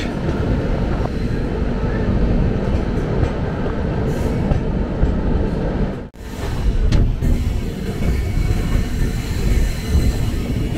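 A Howrah Delhi Rajdhani Express train running, a loud continuous rumbling roar of wheels and carriages with a brief dip midway before the clatter resumes, heard from close by.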